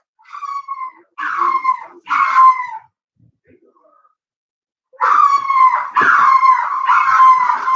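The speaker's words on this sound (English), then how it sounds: "That's a Chihuahua." A Chihuahua barks and howls loudly in drawn-out, wailing bursts close by: three cries, a short quiet pause, then a longer run of repeated howling yelps.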